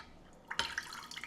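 Coffee machine purging hot water from its chamber into the drip tray, heard as a brief splash and spattering drips starting midway and trickling on at low volume.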